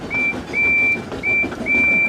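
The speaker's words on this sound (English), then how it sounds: "As he arrived, he blew his whistle long and hard." A toy-style train engine whistle gives four short, high toots in quick succession, close and loud, with brief gaps between each blast.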